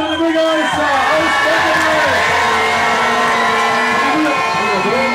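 A crowd cheers and whoops loudly for a mayor on stage, a continuous roar of voices with sustained shouting throughout.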